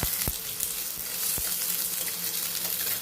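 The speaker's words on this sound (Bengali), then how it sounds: "এখন এখানে পেঁয়াজ কুটো দিয়ে দিলাম" Chopped onion hits hot oil already flavoured with fried whole spices, setting off a rushing, watery sizzle that stays loud and steady, with a few sharp clicks and pops scattered through it.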